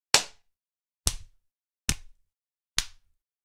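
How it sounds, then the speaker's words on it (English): Four sharp, wet slaps on a banana peel, evenly spaced about a second apart, each with a short decaying tail, close and clear with nothing else. "Those are all different banana slaps."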